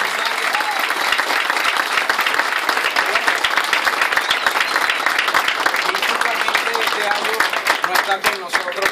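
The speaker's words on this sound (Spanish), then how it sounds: "quiero brindar un fuerte aplauso para los 100 años del Panorama y para Luis González" Audience applause marking the 100th anniversary of Panorama at a celebration, a dense, steady wall of clapping filling the whole stretch at close range, with some voices mixed in under it.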